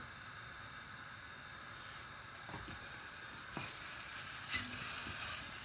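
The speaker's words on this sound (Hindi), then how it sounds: "सबसे पहले ये जो 1 टेबलस्पून ऑयल है इसको ऐड कर लेते हैं। गार्लिक को ऐड करेंगे।" Chopped garlic sizzles in a tablespoon of hot oil in a pan, a steady crackling hiss close by that grows a little louder as it is stirred, with a few light scrapes near the end.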